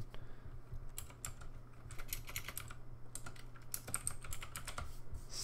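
Keys clatter on a computer keyboard in quick, uneven bursts of close, crisp clicks over a low background hum, with no voices.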